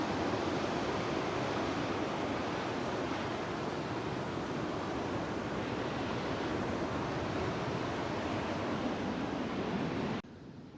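Ocean surf washes steadily over coastal rocks at sunset, a continuous loud broadband roar of breaking water with no voices, dropping slightly in level right at the end.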